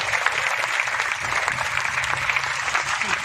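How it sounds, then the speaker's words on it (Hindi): Steady applause from a large crowd at a welcome rally in Hisar, dense and sustained throughout, with a faint murmur of voices underneath. "तो एक बार जरूर आप अपने लिए तालियां बजाओ साथियों।"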